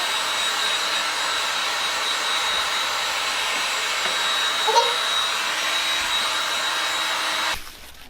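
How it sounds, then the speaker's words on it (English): Heat gun blowing steadily to dry a craft project, a loud continuous roaring hiss that runs unbroken for about seven seconds before cutting off abruptly near the end. "I'm going to use my heat gun to just dry it up a little bit"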